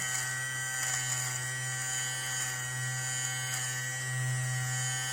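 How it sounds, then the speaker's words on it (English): A steady electric buzz of a small Philips fabric shaver running continuously at close range removing pills from clothing, with a constant low hum and faint scraping. "So I am going to use this Philips fabric shaver on that to find out does it actually work"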